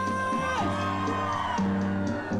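Festival crowd at an R&B concert whooping, shouting and cheering over sustained tonal music, voices rising in bursts throughout the short stretch.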